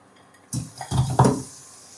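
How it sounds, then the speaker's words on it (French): Spinach being stirred in a frying pan for a winter shakshouka: a few wet, soft scraping and rustling strokes, near and moderately loud, trailing off into quiet. "Ajoutez les épinards dans la poêle et mélangez bien."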